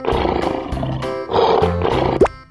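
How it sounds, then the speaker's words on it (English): A lion roars in a cartoon animal sequence, a loud rough growling roar that swells near the end, heard amid other layered sound. "Lion."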